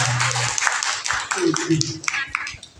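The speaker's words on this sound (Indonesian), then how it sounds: "Tepuk tangan buat kita semua." A short burst of group clapping from a classroom of children breaks out amid chatter and voices, uneven and close, fading after a couple of seconds.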